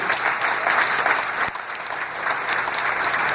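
A church congregation claps together at a service, a dense, steady round of applause that fills the space for a few seconds without anyone speaking.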